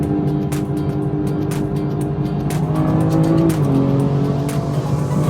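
A BMW F30 340i with a stage 3 xHP transmission tune in Sport Plus pulls hard under acceleration, its loud, steady engine drone dropping sharply in pitch at one quick upshift midway.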